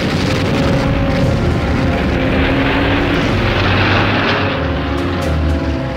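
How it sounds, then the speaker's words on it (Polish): Propeller-driven bomber aircraft flying over during a wartime bombing raid on the Hel peninsula, a loud continuous engine drone with a heavy rumble that holds steady throughout, no voices. "wystartowały stamtąd 24 samoloty, których załogi otrzymały rozkaz zbombardowania Helu"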